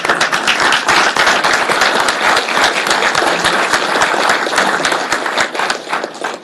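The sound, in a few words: round of applause at a board meeting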